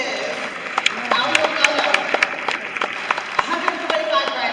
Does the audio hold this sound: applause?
yes